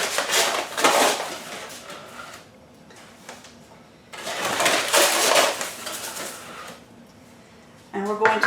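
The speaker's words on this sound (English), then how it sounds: "we are going to add in 1 cup of sugar to start with." A cup of sugar poured into a pot with water for rock candy, two long grainy rushing pours with a clink at the end.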